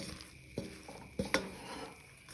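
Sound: stirring mango pickle with spoon in pot

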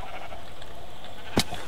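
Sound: sheep bleating in a video game

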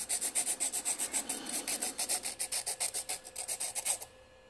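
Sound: sandpaper stick sharpening a graphite pencil

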